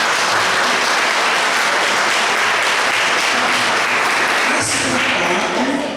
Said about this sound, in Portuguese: palmas para eles, vamos agradecer.